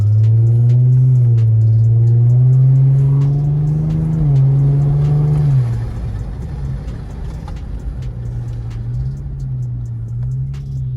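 An Infiniti G35, with a newly repaired negative battery wire, drives with a loud, close engine drone that climbs slowly in pitch, then drops and settles into a rougher, lower rumble; no one speaks.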